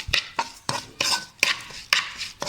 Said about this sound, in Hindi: mix well and cook